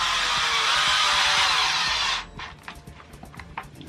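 A power drill drives 1 5/8 inch screws into a wooden ramp extension for a trailer, whirring loudly and steadily for about two seconds, then stopping, with a few faint clicks and knocks after.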